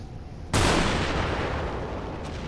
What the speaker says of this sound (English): The explosions that it's showing right there, it's pretty cool.